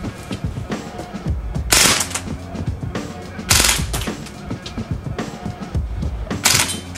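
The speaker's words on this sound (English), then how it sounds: "let's see how it fires" A MAC11 gas-powered BB gun fires in three loud, sharp bursts spaced about two seconds apart. Softer clicks and handling noise fill the gaps between them.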